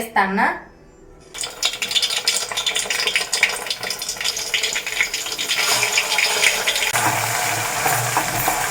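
Herbal paste is stirred in hot coconut oil in a pan to make hair oil, a steady sizzling crackle with scraping stirs running throughout, close and moderately loud, while someone talks over it.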